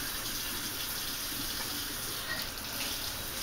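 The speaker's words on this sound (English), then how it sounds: "Somebody's in the kitchen running water." Water running from a kitchen tap, a steady hiss that goes on unbroken for several seconds, heard from another room at a moderate, somewhat distant level with no talking.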